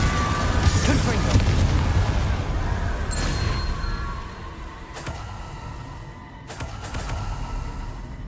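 Explosions from the Confringo blasting spell go off in Hogwarts Legacy: a few sharp bursts with booming tails, moderately loud, separated by pauses, over a murmuring game background.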